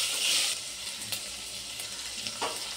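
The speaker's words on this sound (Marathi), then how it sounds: "वाटाणे जरासं परतून घेऊया कारण की ते कच्चे आहेत ना म्हणून" Raw green peas sautéing in a pan for soybean pulao, a soft steady sizzle that opens with a brighter hiss and is punctuated by a few light stirring scrapes.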